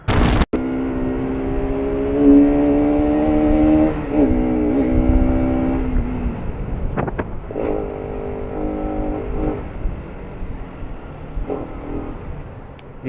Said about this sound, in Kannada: ಏನಪ್ಪ ಟ್ರಾಫಿಕ್ ಇದು